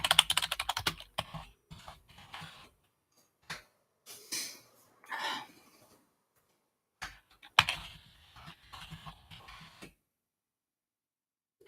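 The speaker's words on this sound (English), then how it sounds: "I'm typing too fast for my keyboard apparently." Quick bursts of typing on a computer keyboard, fast clattering keystrokes in short runs separated by pauses, close and fairly quiet.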